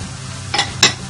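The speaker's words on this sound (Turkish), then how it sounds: "Kavurma işlemine devam ediyorum." Steady low sizzle of leeks and carrots frying in olive oil in a pan, with two quick scraping stirs of a utensil near the end.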